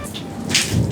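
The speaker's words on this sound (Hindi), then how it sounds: "इस टाइम यह बारिश हो रही है, इस टाइम जो ये आसमानी बिजली गिर रही है" Heavy rain pours down during a storm with lightning and strong winds, making a dense, steady hiss with a low rumble underneath.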